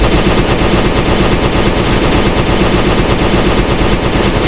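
Automatic gunfire from a video game weapon, a rapid, unbroken stream of loud shots filling the whole stretch at constant intensity, very close and with no voices.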